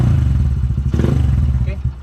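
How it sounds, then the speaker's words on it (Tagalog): A motorcycle engine runs steadily nearby with a rough, low throb, with clattering sounds and brief voice-like sounds over it. "Napainit ko na rin yung makina ni Mia"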